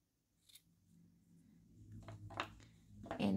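Scissors snip through crochet yarn after a granny square motif is pulled tight, a few quiet, close cuts and rustles building to a louder snip at the end, with no voices.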